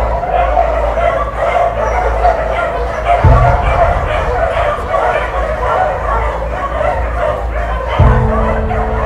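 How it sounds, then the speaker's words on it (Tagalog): Many dogs bark and yip inside an animal shelter, a dense, loud chorus of overlapping barks and whimpers close by, with people talking underneath. "malakas na ang kahulan ng mga aso sa loob"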